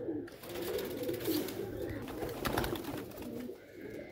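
Pigeons coo in low, throaty, continuous murmurs close by, Sialkoti bloodline pigeons, with some light rustling and fluttering mixed in.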